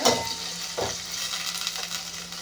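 Tomatoes sautéing in a pot for sambar, a continuous close sizzle and crackle with a couple of stirring scrapes.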